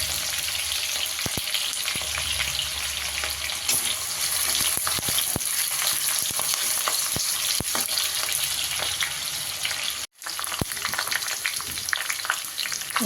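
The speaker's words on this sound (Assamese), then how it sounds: "তাৰপাছতে ডাঙৰ চাইজৰ এটা পিঁয়াজ দি দিছোঁ। পিঁয়াজখিনি অকণমান ৰঙা হ'বলৈ দিছোঁ।" A large chopped onion fries in hot oil in a wok, giving a continuous close crackling sizzle with scattered sharp pops and clicks and one brief break near the end, no voices.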